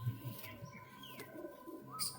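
Twelve-tailed pigeons in a loft, soft low cooing repeated close by, with a few faint chirps and quiet background hum.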